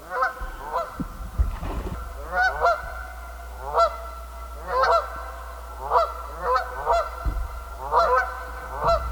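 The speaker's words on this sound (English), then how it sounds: "I rarely get Canada geese out here at this time, so it's kind of funny to hear two of them" Two Canada geese honk repeatedly in an irregular back-and-forth rhythm, fairly close and clear over a low steady background hum, near a pond by a beaver lodge.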